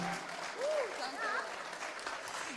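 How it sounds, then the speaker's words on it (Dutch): Audience applause at the close of a debate on Radio Stad Harlingen, a steady broadband patter of clapping heard from a moderate distance, with a brief whistle-like tone rising over it. "Applaus voor Simone Scheffer voor het debat van Joene."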